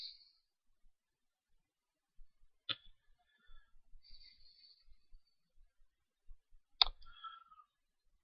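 Two sharp mouse clicks in an otherwise near-silent room, with a few faint ticks and soft taps scattered between them.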